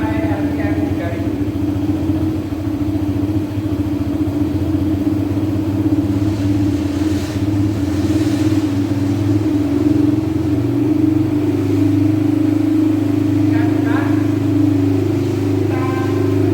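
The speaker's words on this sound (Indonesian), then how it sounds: "Selanjutnya kita hidupkan mesin motornya." A conventional motorcycle engine running steadily and brought up toward 3000 RPM, a continuous loud rumbling drone with slight rises, a voice speaking occasionally over it.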